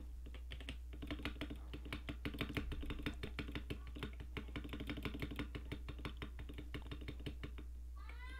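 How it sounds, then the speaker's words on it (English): Rapid, dense keyboard keys hammered while playing Minecraft, a near continuous clatter of sharp clicks lasting the whole stretch, with a cat meowing briefly near the end. "Absolutely spam my keyboard."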